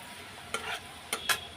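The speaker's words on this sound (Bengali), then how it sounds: "এটা একটু ভেজে নিচ্ছি" Food fries lightly in a pan with a soft, steady sizzle, punctuated by three brief stirring scrapes near the middle and end.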